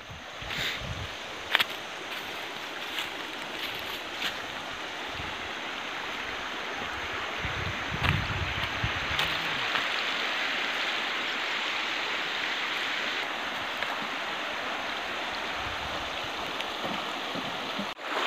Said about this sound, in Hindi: ये एक नाला है और कितना साफ पानी है